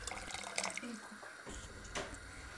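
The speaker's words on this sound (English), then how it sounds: "Adding some frozen meat stock and more hot water for about" Hot water and thawed meat stock poured into a cooking pot while making manti soup, a steady splashing, trickling pour close by with a brief louder gush near the end.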